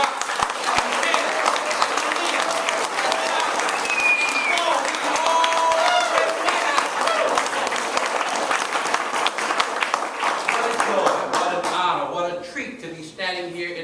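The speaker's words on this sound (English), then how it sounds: "why don't y'all celebrate yourselves tonight with a great big round of applause?" Applause from an audience at a keynote rally held in a museum, a steady dense wash of clapping sustained throughout, with some whistles or cheers mixed in, thinning toward the end.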